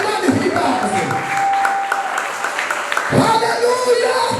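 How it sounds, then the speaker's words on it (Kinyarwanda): A congregation applauds God in praise, clapping that mixes with voices and shouts in a lively, fairly loud stretch, with people speaking over it. "Kamera Imana amashyi menshi cyane"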